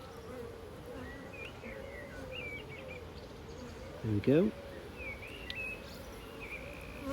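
A steady low buzz of many honeybees around a top bar hive during an inspection hums throughout, with a person briefly speaking partway through and faint bird chirps in the background.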